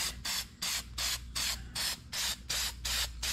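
Rust reformer primer is sprayed from an aerosol can onto the chassis pans of a 1960s VW Beetle in about ten short, evenly spaced hissing bursts. The spray is close and loud, and no one speaks.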